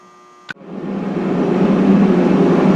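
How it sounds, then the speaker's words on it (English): A heater starts up in a garage during truck work: a sharp click or ignition thump, then a steady broadband whooshing roar of blowing air that builds and holds, loud and close, with no talk. "you have to forgive us, we got the heater going here"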